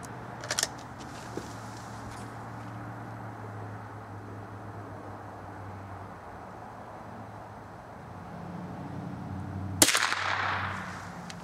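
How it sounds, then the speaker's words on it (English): A single CCI .22 Short hollow point round is fired into ballistic putty. One sharp, brief crack rings out near the end after a long stretch of quiet room hum. "the next shot is going to be the CCI 22 short hollow point"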